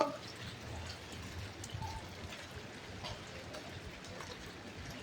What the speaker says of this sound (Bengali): বৃষ্টি পড়ছে, বেরিয়ে গেছি।